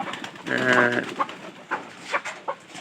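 Domestic pigeons kept indoors coo with a clear low rolling burst, followed by softer scattered calls at moderate distance.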